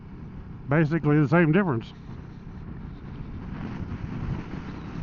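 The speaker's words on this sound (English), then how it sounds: "the wind's blowing right here, and it is really getting cold" Wind roars against the microphone of a Sena Impulse motorcycle helmet without a visor while riding in cold air, a steady low buffeting rumble that continues after a man's short spoken line.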